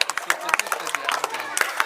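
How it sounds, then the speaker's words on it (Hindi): An audience claps for a child who has just recited a poem at a school event, with quick, uneven hand claps and low crowd murmur. "ताली बजा दो इसके लिए"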